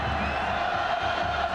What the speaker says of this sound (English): the crowd getting loud